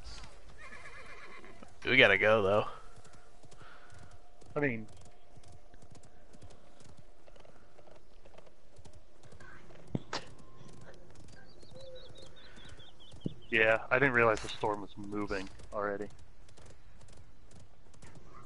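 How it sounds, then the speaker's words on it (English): Horse neighs and hoofbeats in the video game Realm Royale: two loud whinnying bursts several seconds apart, with clip-clop steps and game effects between, while players talk over the action. "I see someone on a horse. Someone on a horse."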